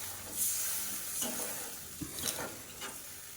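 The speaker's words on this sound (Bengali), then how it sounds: "পরিমাণ মতো জল দিয়ে দিচ্ছি।" Water is poured into a pan of potatoes and spices fried for a fish curry with live shing fish, setting off a soft sizzling hiss with a few stirring scrapes, close and fairly quiet.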